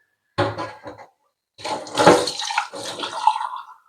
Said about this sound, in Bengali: এই গাছগুলো একটু করে জলটাও চেঞ্জ করে দিই আর ধুয়ে দিই পরিষ্কার করে